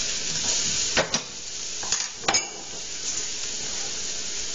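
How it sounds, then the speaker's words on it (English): Vegetables for a veggie taco salad sautéing in a pan on medium heat, a steady soft sizzle with a few clinks of a utensil stirring against the pan. "I got it on medium heat because I'm just sauteing it"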